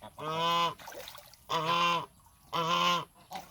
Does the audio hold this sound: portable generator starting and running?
no